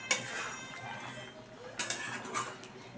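Coriander leaves being mixed into pabda fish curry in mustard gravy in a pan, light clinks and scrapes of a spoon against metal, scattered taps growing a little busier toward the end, soft and close.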